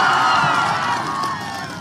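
A large crowd at a political rally, cheering and applauding loudly in a dense, continuous roar that slowly fades toward the end.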